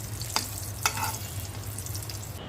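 Eggplant frying in oil, a soft steady sizzle with two brief clinks of a utensil against the pan, fairly quiet and without voices.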